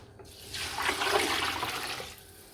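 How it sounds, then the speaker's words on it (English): Measured water poured steadily into a pot for lamb pulao, a continuous splashing gush that swells and then tapers off over a couple of seconds, close and alone with no talking. "Now I'm going to add the water."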